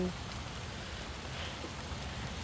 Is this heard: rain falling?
yes